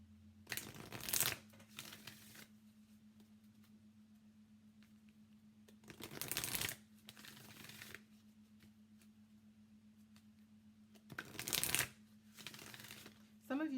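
Energy Oracle cards by Sandra Ann Taylor are shuffled in three quick, crisp riffling bursts separated by quieter pauses, close up against a low steady hum, with talk in between.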